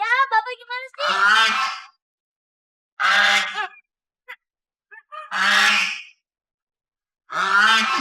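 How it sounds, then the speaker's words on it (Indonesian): Goose honking in a rural setting: several loud, harsh honks in separate bursts with pauses between, close by, with a brief higher call at the start. "itu kayak angsa kita"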